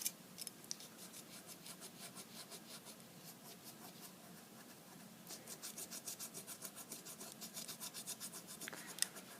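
Soft repeated snipping of scissors trimming a miniature baking pan, quick rhythmic cuts close up in a quiet room, with a couple of sharper clicks.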